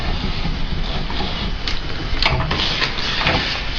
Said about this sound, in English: So I'm just cranking this along.